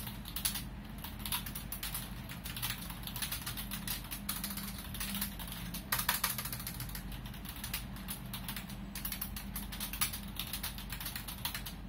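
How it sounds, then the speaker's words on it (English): Rapid clicking keystrokes come from a Dell wireless keyboard used with Samsung DeX, a close, quiet flurry of uneven taps with brief pauses and a louder burst of keys midway. "Okay, the typing experience is pretty good."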